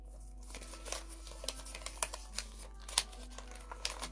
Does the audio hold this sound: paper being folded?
yes